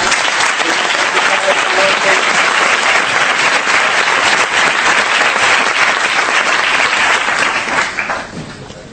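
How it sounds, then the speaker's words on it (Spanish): Loud, dense audience applause filling the room for nine seconds, steady and close, then tapering off at the very end. "un gran aplauso para Miguel y Pilar."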